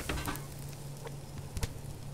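Liver and onions cook in a pan in the survival video game Subsistence, a soft steady frying sizzle with a low hum and a couple of faint clicks, quiet with no talk.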